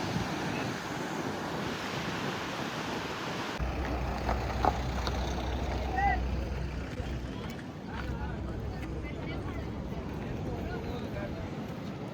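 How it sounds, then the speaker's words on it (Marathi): Steady roar of sea waves at Cabo de Rama Beach, Goa, blended with wind buffeting the microphone, continuous and fairly loud throughout. "काय समुद्र आहे, काय लहरे आहे"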